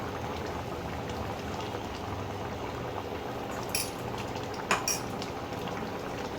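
Gravy with flour balls bubbles at a steady boil in a pot, a continuous low churning simmer heard up close, with a couple of brief utensil clinks near the end.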